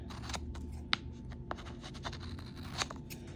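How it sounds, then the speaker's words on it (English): Quiet snips from a pair of scissors cutting a piece of material while making a craft focus board, a few soft sharp clicks and scrapes close by with no talking. "Use my scissors instead."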